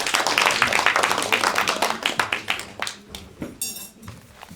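Audience clapping to welcome a student speaker at a family speech contest in a hall: dense applause that starts loud and gradually thins into scattered claps before fading.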